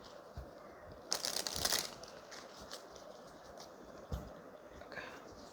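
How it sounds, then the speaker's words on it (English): A deck of tarot cards is shuffled quietly, giving soft intermittent riffles and papery crinkling in short bursts, with a louder flurry near the start and another toward the end. "Let me just quickly shuffle these"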